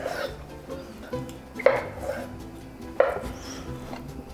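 A knife cuts tofu into squares on a board in a home kitchen, with a few soft, separate chops and light taps spaced irregularly over a low background hum.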